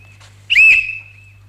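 A single sharp, high whistle blast in a 1951 French radio play, brief and piercing against a quiet background with a low steady hum.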